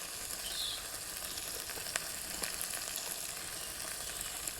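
Rohu fish kalia masala fries with a soft, even sizzle while a spoon stirs it now and then, giving a few faint clicks and scrapes; close and fairly quiet, no talking.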